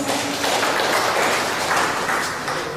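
Crowd clapping at a Ghanaian community gathering in Tripoli, Libya, where new executives are introduced; a steady, dense patter of many hands continues evenly for the whole stretch without a break.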